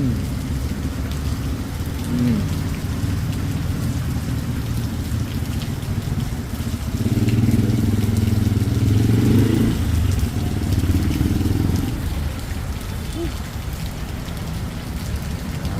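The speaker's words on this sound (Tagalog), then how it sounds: "grabing ulan oh" Heavy afternoon rain pours steadily in a loud, continuous roar at a parking area, with a low engine rumbling beneath it that swells for a few seconds midway.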